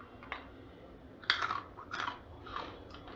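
Several crisp crunching bursts from chewing crispy fried pasta (Kurkure pasta), close and fairly quiet, coming in irregular bites with pauses between them.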